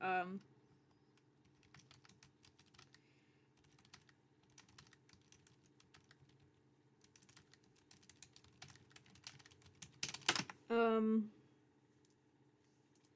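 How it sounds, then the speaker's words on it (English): Computer keyboard typing runs through most of the stretch as scattered, light clicks at low level, with a couple of louder tonal bursts near the start and end. "I'm going to type this while I think about how Drew is going to go about with your 25"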